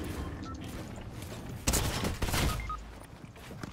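Gunfire rattles through a Fortnite match, a cluster of quick, sharp shots bursting out in the middle at moderate volume over a busy game soundscape with faint electronic tones.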